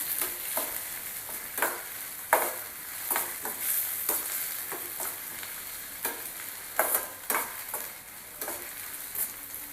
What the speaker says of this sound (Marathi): ही जी शिमला मिरची आहे ते पण घालणार आहे। कांद्याबरोबर हे पण परतून घेऊया।